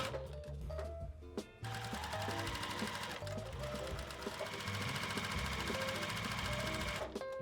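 A sewing machine stitches quilt block strips in a steady, continuous mechanical whir that runs nearly unbroken for several seconds, with one short pause near the start.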